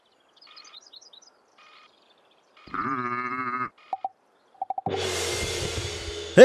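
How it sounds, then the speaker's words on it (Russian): A cartoon goat in a children's animated series about cars bleats in a loud, wavering cry after faint chirps, followed by brief honks or squeaks and then a burst of broadband noise. "Эй, держите своего козла при себе."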